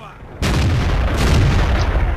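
A World of Tanks cannon shot from a Dicker Max tank, one sudden loud blast after near silence, followed by a sustained rumbling roar.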